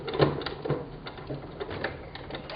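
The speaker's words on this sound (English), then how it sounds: "I've got my machine actually set to a straight stitch now" A sewing machine running a straight stitch while attaching binding to a shoulder-snap t-shirt, a fast steady mechanical clatter heard up close, continuing without pause and with no talking.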